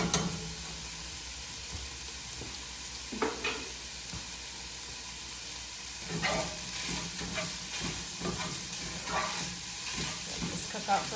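Three cloves of minced garlic cooking in a pot for Zuppa Toscana, giving a low steady sizzle with scattered stirring scrapes and clatter, growing busier in the second half.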